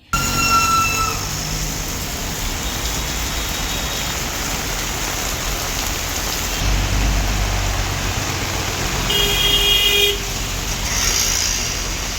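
Heavy monsoon rain in the streets of Kalyan-Dombivli, a steady dense roar of downpour on surfaces with traffic noise underneath and occasional short car horn toots.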